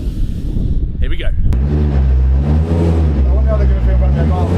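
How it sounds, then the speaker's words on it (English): A World Rallycross car accelerates hard and drifts around a residential driveway, its engine roaring loud and close with a steady revving growl after a sharp initial burst. "I bet they've never had a rally car drift around their driveway."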